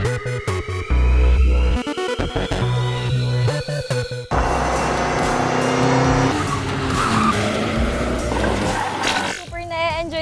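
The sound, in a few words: cars skidding during timed autocross runs on a cement course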